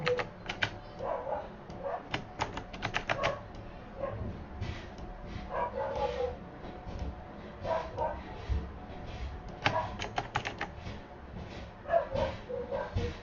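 A dog barks in repeated short bursts at irregular intervals. The barks are fairly faint against a quiet indoor background, with some light clicking between them.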